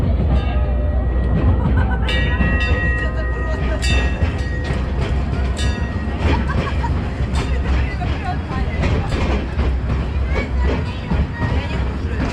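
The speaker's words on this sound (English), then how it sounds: "we're gonna go for a little jaunt on the train" Heart Lake Express, a small theme-park train at Legoland Windsor at Christmas, rumbles along steadily with rattling carriages, wheel clicks and squeals, under a constant babble of passenger chatter.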